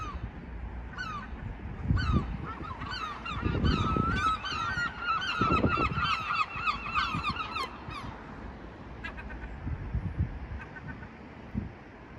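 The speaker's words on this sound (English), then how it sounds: "The birds sound like an alarm." Geese honk repeatedly in loud, alarm-like bursts over several seconds in the medieval walled town of Conwy, Wales, with low wind rumble underneath and a few fainter honks trailing off.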